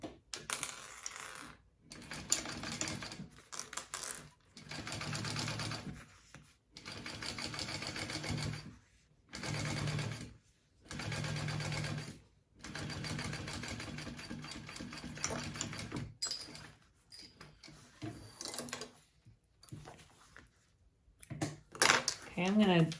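A sewing machine topstitches along the side panel of a handmade bag, its motor whirring in several fast bursts separated by short pauses, close and fairly loud. A voice speaks briefly between runs.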